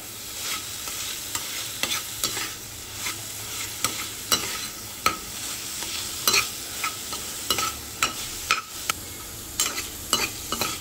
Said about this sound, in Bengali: নারকেল কোড়া দিয়েও ভালোভাবে মিশিয়ে নিচ্ছি।